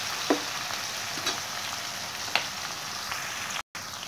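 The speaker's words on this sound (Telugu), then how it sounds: "సిమ్లో ఉంచుకొని వేపుకుంటున్నాను నేను." Fenugreek leaves and curry leaves fry in a pan over low heat, giving a steady, soft sizzle with a few faint pops and crackles throughout.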